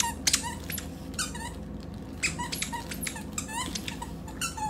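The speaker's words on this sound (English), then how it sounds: "Popcorn pumpkin toy for dogs." A dog plays with a squeaky popcorn pumpkin chew toy, sending out repeated sharp, high squeaks in quick bursts over a low background rumble, fairly close by.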